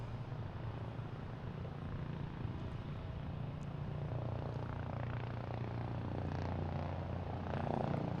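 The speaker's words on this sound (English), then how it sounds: "I have a state police copter coming right up my way." A state police helicopter approaches near Boston Logan International Airport, its steady low rotor drone filling the air and growing slightly louder over several seconds amid outdoor background noise.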